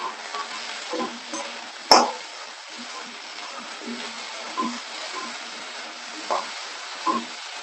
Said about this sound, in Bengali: আলুটাও ভালো করে ভেজে নিচ্ছি